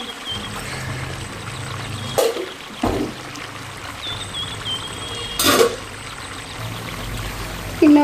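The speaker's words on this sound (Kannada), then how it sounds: "ಈಗ ನೀರು ಹಾಕ್ತೀನಿ." Water is poured from a vessel into a simmering pot of egg curry in a home kitchen, giving a few short splashing pours over a low background hiss, with no talking.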